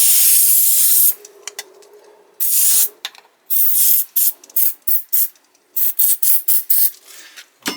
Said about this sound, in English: so we'll just spray this.